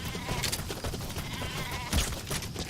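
Sheep bleating in the video game Metal Gear Solid V, several wavering bleats overlapping above a busy background of game sound, fairly close, with a louder cry near the end.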